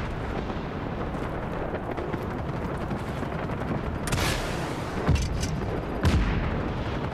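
Gunfire and heavy booms in Just Cause 3, a dense rumbling battle backdrop with a few sharper shots standing out near the end.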